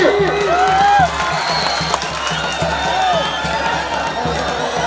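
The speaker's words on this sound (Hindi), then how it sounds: "जोरदार ताली।" A crowd at a village wrestling dangal in Pathargada claps and cheers, with whoops and whistles rising above a loud, continuous crowd roar and voices mixed in.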